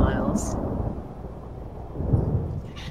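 Low, heavy rumble of thunder rolling for a few seconds during a tabletop role-playing session set in a mansion on a rainy night, loud and sustained with a brief swell near the end.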